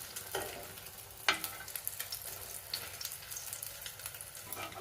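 A bread omelette fries in a pan with a steady, close sizzle and crackle, broken by a sharp scrape or clatter as it is turned.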